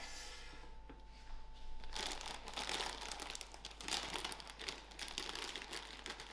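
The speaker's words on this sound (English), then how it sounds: "To my air fryer basket, I've put a piece of parchment paper." Close, crisp crinkling and rustling of parchment paper in an air fryer basket, faint at first and then continuous and busy, with no talking.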